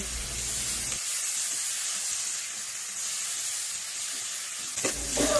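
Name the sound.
garlic, onion and meat sautéing in pan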